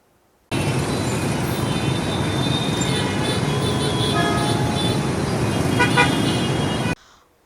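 Steady, dense roar of busy city street traffic with car horns honking now and then, continuous for several seconds, with no clear voices.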